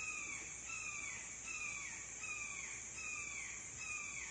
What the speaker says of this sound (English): That's a hawk.